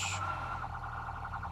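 A police car siren from the game Police Simulator: Patrol Duty wails in a steady, fairly quiet electronic tone over a low engine rumble, with a brief bright chirp at the start.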